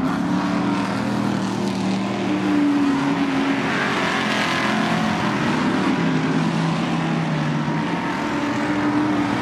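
A sportsman-class racing truck runs on a rainy track at Crandon, Wisconsin, its engine a loud, steady, unbroken roar throughout, with no voices over it.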